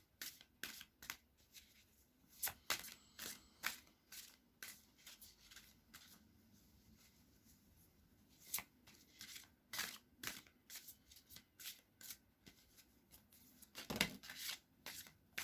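Oracle cards being shuffled and drawn one by one for a weekly reading, a close, quiet run of papery flicks, snaps and slides with irregular bursts, and a fuller riffle near the end.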